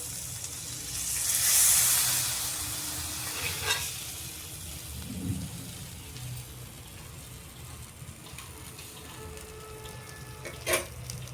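Semolina-coated masala pomfret fried on its second side in a pan gives off a steady, loud sizzle and crackle throughout, with a few soft clinks of a utensil.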